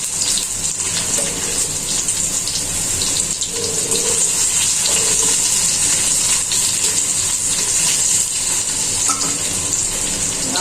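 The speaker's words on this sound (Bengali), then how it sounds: "সেম তেলে আমি পেঁয়াজ দিয়ে দিই, পেঁয়াজ আর রসুন দিয়েছি।" Onion and garlic sizzle steadily in hot oil in a home kitchen pan, a continuous loud hiss and crackle that carries on unbroken with no talking.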